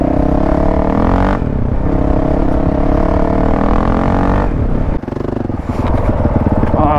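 An off-road motorbike rides along trails in Thetford Forest, its engine droning close and loud. The engine note holds steady, shifts briefly, then dips and picks back up near the end.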